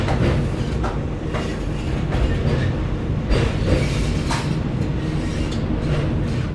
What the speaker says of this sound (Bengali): ট্রেন ঢুকে গেছে খড়গপুর জাংশন